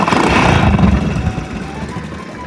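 A Honda Super Cub 90DX with a freshly overhauled carburetor fires up at once and settles into a low, even idle, loud at first and then easing to a quieter steady putter.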